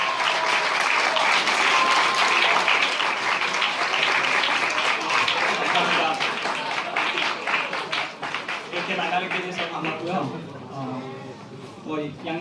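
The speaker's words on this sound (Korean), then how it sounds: "우리 선배님 나오실 때 큰 박수로 맞이하도록 하겠습니다." A church congregation welcomes a guest speaker with sustained, even applause for several seconds; the clapping gradually thins as a voice begins speaking over it.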